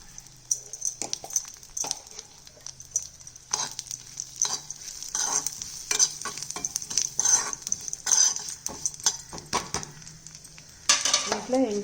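Dry coconut powder and poppy seeds frying in ghee, a soft steady sizzle with frequent scraping stirs of a spoon against the pan, close and fairly quiet.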